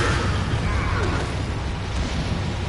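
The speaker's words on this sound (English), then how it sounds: "Throw a grenade down this way." A grenade blast in Resident Evil 4, the PS4 remaster on Professional mode, comes as a sustained roaring rumble with broadband debris noise that stays loud throughout, while a player talks over it.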